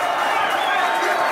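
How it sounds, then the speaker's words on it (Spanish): An audience at a live freestyle rap battle event roars with steady applause and cheering, a loud, unbroken wash of clapping and crowd voices throughout. "Un fuerte aplauso."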